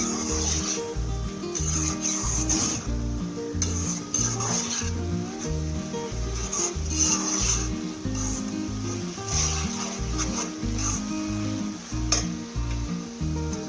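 White pumpkin halwa is stirred in ghee in a pan, sizzling and frying, with a repeated rhythmic scrape of the spoon against the pan, close and steady, with no talk.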